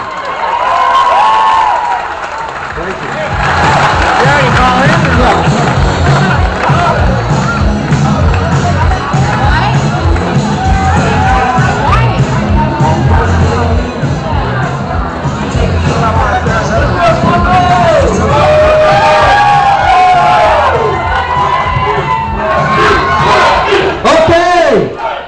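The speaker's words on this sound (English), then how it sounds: "let's give him a round of applause." A loud crowd cheers, whoops and claps for a contestant at a contest, a dense, continuous roar of shouting voices and scattered applause that swells and holds for the whole stretch.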